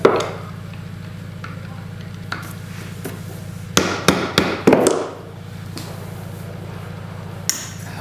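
A few sharp hammer taps on a stuck part of a Polaris XLT 600 triple snowmobile engine land in a quick cluster over a steady low engine hum, followed by one more isolated knock.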